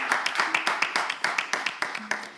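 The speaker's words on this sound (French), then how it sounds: "On applaudit aussi." Audience at a live raffle-style draw event clapping in a steady burst of overlapping handclaps, moderately close, with faint voices underneath.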